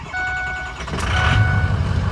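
A Ford 6.0 Powerstroke diesel pickup cold-starts after sitting nearly a day in hot weather, with warning chimes giving way to a cranking catch and a steady, loud diesel idle rumble close by.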